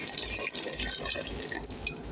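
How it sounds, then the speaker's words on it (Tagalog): Boiled water pours steadily into a container while cooking fish motabak, a continuous close liquid rush with faint splashing throughout, no voices. "Saka natin siya buhusan ng tubig na pinakulo."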